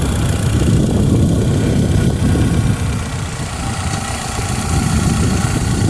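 A Mitsubishi Outlander XL engine idles steadily at close range, a continuous low rumble with slight fluctuations and no voices.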